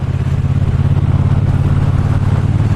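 Triumph T120 Bonneville twin engine running on a test ride, a loud, even, throbbing rumble with a steady pulsing beat, close and with no talk.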